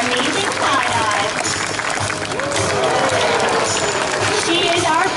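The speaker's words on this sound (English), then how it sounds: "maybe if all your fans put their hands together and applaud for you" An aquarium audience at a Long Island sea lion show claps in a sustained burst, dense applause spreading through the stands while a presenter's amplified voice speaks over it.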